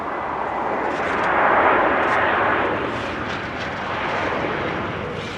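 Aircraft 9H-ORN at Amsterdam Schiphol Airport on a showery day, a loud steady jet engine roar that swells in the middle and then eases, heard alone.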